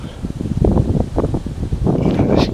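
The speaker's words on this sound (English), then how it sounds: "As you can see, it's very windy." Strong wind buffets the microphone with loud, steady low rumbling and gusty roar, with faint rustling throughout.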